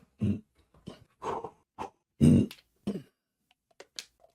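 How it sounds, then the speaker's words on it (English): A few short, throaty grunts and rasping throat clears in quick bursts, close and fairly loud, separated by brief silences. "Got to clear my throat."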